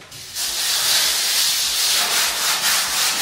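An electric sander works a wood floor, a steady, loud hissing rasp starting after a brief quiet moment and continuing with slight swells, no voices.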